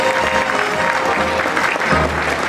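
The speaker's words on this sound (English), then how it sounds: "let's give a round of applause for my co-host, Matt here." Sustained applause from a theme park show audience at Universal Studios Hollywood fills the whole stretch, dense and loud, as a broad clapping wash with faint crowd murmur.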